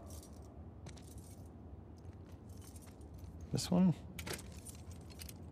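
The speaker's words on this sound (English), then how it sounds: "Wanna try those keys?" Keys jingle and rattle in a lock in The Last of Us Part II, a brief close metallic jangle in the middle over a low ambient bed, with a voice speaking briefly.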